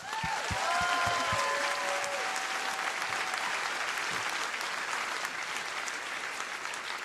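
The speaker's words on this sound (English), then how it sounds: "Can we just give them a round of applause?" Audience applause at a live comedy show in Portland, a sustained crowd of clapping that stays fairly even, with brief tonal notes and a few low thumps near the start under the clapping.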